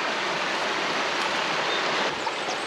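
Steady broadband rush of a river flowing in a warm, early-summer setting near Matera, Italy, continuous and fairly close, with no voices.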